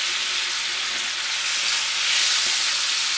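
Shrimp seasoned with Ras el Hanout sizzle in a pan with a loud, dense, close hiss that holds steady and swells slightly toward the end, with no voices.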